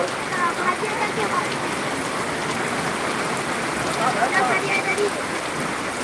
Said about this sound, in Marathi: मोठ्या प्रमाणात पाऊस आहे आणि हा सर्वत्र पाऊस